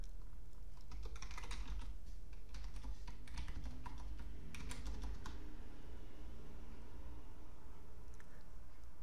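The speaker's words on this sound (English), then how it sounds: "simply reopen Windows Command Prompt and type in ping followed by the assigned" A ping command typed on a computer keyboard, heard as bursts of quick, close key clicks over the first half, then tapering off into a low steady room hum.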